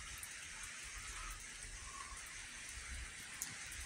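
Steady, dense rain falls outdoors at night as the person shelters under cover, a continuous hiss with no breaks and no talking.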